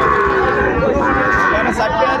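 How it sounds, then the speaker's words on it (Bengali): Young Sahiwal breed bull calves at a cattle market moo loudly and close, long drawn calls overlapping amid a busy crowd murmur. "সুন্দর মানের সব কোয়ালিটি সম্পন্ন ষাঁড় বাচ্চা"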